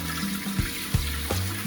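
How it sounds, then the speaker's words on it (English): A HOROW T38 smart bidet toilet flushes with rushing, splashing water broken by three or four dull thumps, close and moderately loud with no voices. "we try flushing again"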